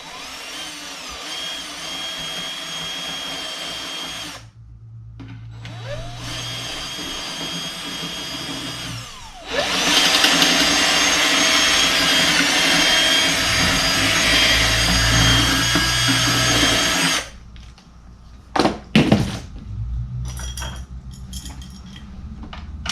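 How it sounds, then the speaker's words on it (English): Power drill grinding and whirring through car body metal of a BMW E46 in long sustained bursts, loud and close, with short pauses and a few brief stuttering spurts near the end. "Now I'm just going to drill those out."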